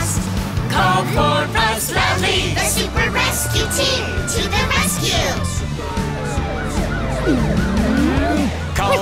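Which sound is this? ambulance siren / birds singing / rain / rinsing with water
ambulance siren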